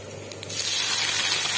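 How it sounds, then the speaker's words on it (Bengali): Chopped tomato hits hot oil seasoned with black cumin seeds in a wok, sparking a sudden loud, broad hiss that starts after a quiet moment and stays steady and strong to the end. "এইবার আমি টমেটো কুচি দেব।"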